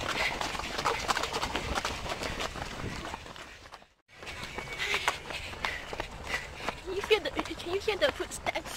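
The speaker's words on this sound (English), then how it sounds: "Can you hear the footsteps?" Many runners' footsteps patter in a busy, continuous stream along the course of a half marathon in Singapore, fairly faint and mixed with crowd noise, with a brief silent gap midway.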